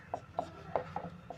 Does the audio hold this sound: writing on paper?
yes